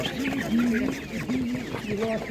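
Hens clucking close by at an animal market in Ivano-Frankivsk region, Ukraine, in a repeated, warbling chatter, several birds calling over one another in a busy, continuous stream.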